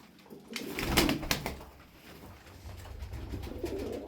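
Turkish play pigeons coo softly close by, a few low throaty calls with some rustling and flutter, fairly quiet overall.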